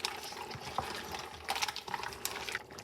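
Stirring a pot of pasta water with mussels, with watery swishing and sloshing throughout and a few brighter clinks of a utensil against the pot, close and moderately loud.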